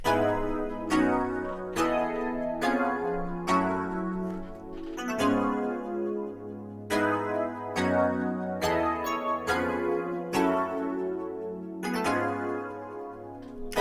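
Top notes of pluggnb-style synth chords played alone, a bright electric-piano-like tine tone moving through a repeating progression with steady, sustained chord hits and no drums.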